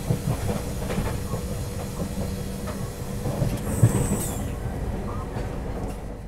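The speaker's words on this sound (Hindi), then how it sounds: "क्या हम किसी ट्रेन को ओवरटेक कर रहे हैं?" Steady rumble and rattling of a Tejas Rajdhani Express passenger train on the Mumbai–Delhi run as it overtakes another train, with continuous rail noise, a faint hiss and a brief louder whoosh midway.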